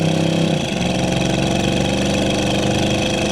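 Steady, loud rumble of a 1976 Chevrolet C10 with its 350 V8 and automatic transmission, pulling under throttle while driving, the engine note dense and continuous.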